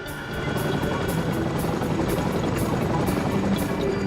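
RAF Chinook twin-rotor helicopter loaded with troops, food, ammo and supplies bound for Bastion, Afghanistan, giving a steady, loud rotor and engine roar with faint regular blade thumps throughout.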